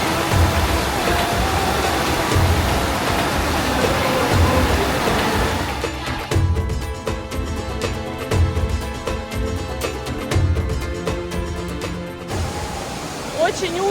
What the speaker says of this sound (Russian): Салтинский водопад – это единственный в Дагестане подземный водопад.